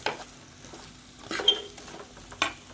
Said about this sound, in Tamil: இந்த காய்கறி கூட நம்ம கலந்துக்கலாம்.